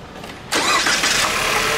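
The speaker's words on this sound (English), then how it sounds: "I'll go and start the car quickly." An Astra car engine with a lost-compression misfire, from a compression ring or piston fault, cranks and catches, jumping abruptly to a loud, steady running roar that holds close by without any talking.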